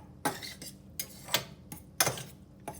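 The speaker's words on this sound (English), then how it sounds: "now we want to give it a good stir once again" A utensil stirs chicken coated in coconut aminos around a skillet, giving a handful of faint, irregular clinks and scrapes against the pan with quiet pauses between them.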